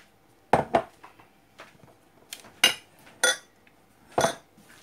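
Pakora chaat ingredients are mixed in a bowl with a spoon, giving a handful of sharp, close clinks and clatters of metal against the dish, irregularly spaced with quiet gaps between them.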